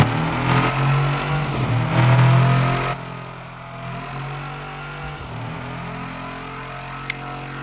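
A rally car in a Forza Horizon-style racing video game revs hard with turbo whine, loud at first, then dropping to a lower steady engine drone with a brief click near the end.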